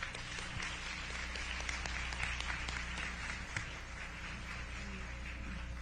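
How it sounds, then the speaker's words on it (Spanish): Modest audience applause at a Spanish-language talk about Zoila Ugarte, steady scattered clapping in a room with a constant low hum, fairly faint and continuing throughout. "Si por favor le damos un aplauso."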